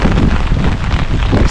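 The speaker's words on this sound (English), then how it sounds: "it's pretty windy" Strong wind buffets the microphone on a hilltop trail in the Quantocks, a steady, loud, broadband roar that rumbles continuously without a break.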